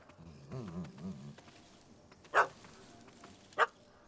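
A small dog in the video game The Witcher 3 gives two short, sharp yaps, separated by about a second and heard alone against faint background ambience with a low insect-like buzz.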